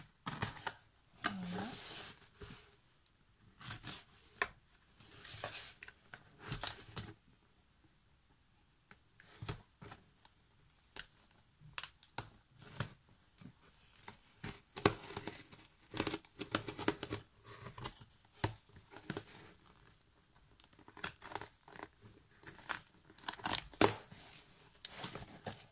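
A parcel is torn open by hand, with bursts of ripping and crinkling packaging alternating with short pauses, close and fairly quiet, in an indoor room.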